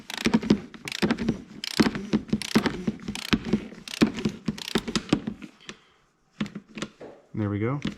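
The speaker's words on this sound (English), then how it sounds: "We just screw it on, and then we're just going to torque it to 17 foot-pounds." Torque wrench ratcheting on a Polaris FS/FST four-stroke snowmobile engine part, tightened to 17 foot-pounds, giving rapid, close mechanical clicks in a steady run, then a pause and a short burst with a voice speaking at the end.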